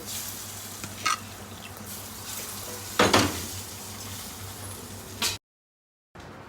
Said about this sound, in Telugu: ఇప్పుడు ఇందులో తాలింపు వేసుకుందాము